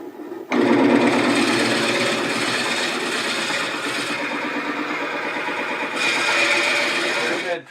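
A steady mechanical grinding whir of a drill bit boring a hole 4.5 inches deep on a lathe at no more than 500 rpm, continuous and close, rising slightly near the end.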